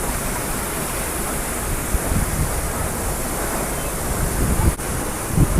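A waterfall in Goa throws strong spray and mist, giving a loud, unbroken rushing roar that stays steady throughout, with a few bumps of wind on the microphone.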